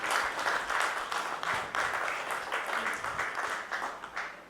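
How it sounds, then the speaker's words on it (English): A conference panel audience at a procurement leaders summit claps together in a sustained burst of applause that holds steady before tapering off near the end. "Let's give a huge round of applause to Mr."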